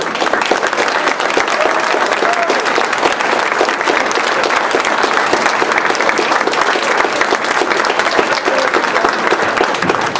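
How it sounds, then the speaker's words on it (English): Sustained audience applause at a West Valley City council meeting, steady dense clapping filling the room at full volume for about ten seconds without a break, no speech over it. "Let's give them a big round of applause."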